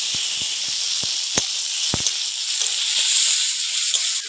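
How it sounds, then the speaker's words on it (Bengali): Tilapia fish head frying in oil with onion over an earthen clay stove gives a steady, close hiss. Sharp pops and crackles stand out in the first two seconds. "পেঁয়াজটা ভাজা হয়ে গেছে, আমি তেলাপিয়া মাছের মাথাটা দেবো"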